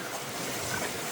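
Cold sea water churns near Kalmar, a brief, steady wash of waves mixed with gusty wind noise, fairly close and unbroken, with nobody speaking.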